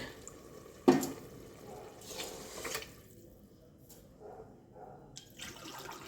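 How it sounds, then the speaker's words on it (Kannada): Water poured from a glass into soaked vegetables in a pot, a sudden splash followed by softer, intermittent trickles and gurgles in a quiet kitchen. "ಇದರಲ್ಲಿ ಒಂದು ಎರಡು ಗ್ಲಾಸ್ ನೀರನ್ನ ಹಾಕಬೇಕು"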